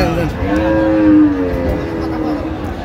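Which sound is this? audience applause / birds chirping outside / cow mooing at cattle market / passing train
cow mooing at cattle market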